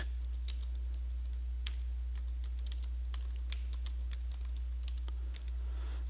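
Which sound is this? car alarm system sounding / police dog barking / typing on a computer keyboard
typing on a computer keyboard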